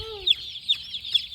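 Chickens being caught on a farm cluck in three short, sharp bursts spaced about half a second apart, up close and moderately loud, with no voices.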